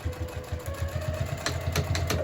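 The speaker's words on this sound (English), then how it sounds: "I'm gonna back stitch a couple times at my little tick mark" A sewing machine back-stitches a seam on a crossbody bag, with a close, rapid, rhythmic clatter of the needle mechanism that briefly shifts pace while reversing, loud and steady throughout with no talking.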